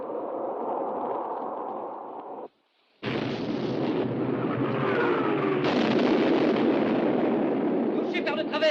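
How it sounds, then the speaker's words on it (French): Heavy main artillery guns of warships fire in the Bismarck sinking battle, with rumbling booms and explosions rolling almost continuously, broken by one brief silence, then louder blasts with sharper crashes near the end. "Feu avec l'artillerie principale."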